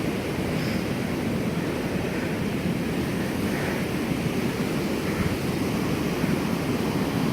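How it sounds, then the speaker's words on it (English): Water pours down the Lynn Camp Prong cascade in the Smoky Mountains, a steady, dense rushing roar that stays even and unbroken, heard alone with no voices. "second bench can be found which overlooks the middle of the cascade"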